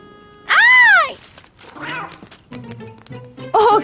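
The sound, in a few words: cat meowing in a cartoon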